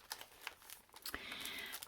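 An old paper sweet bag crinkles faintly as it is handled up close, with quiet irregular rustles and crackles that become a denser soft rustle toward the end.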